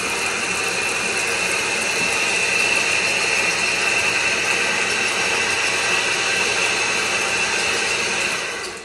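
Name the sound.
antique drill press running, shifted into second gear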